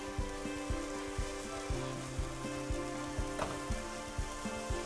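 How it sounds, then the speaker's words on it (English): Ground beef browns in a skillet with a soft, continuous sizzle. Regular scraping taps from stirring cut through it, and the sound stays fairly quiet and close. "we're gonna brown this in our skillet here."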